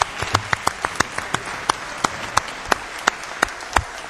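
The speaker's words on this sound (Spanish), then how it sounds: "Un aplauso por la patria y por nuestra bandera." Applause rises in a legislative session in Argentina, thinning to scattered, distinct hand claps spaced out in an irregular rhythm, with a faint room murmur underneath.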